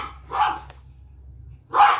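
Pet dogs bark at feeding time, two short loud nearby barks about a second and a half apart, with quiet between them.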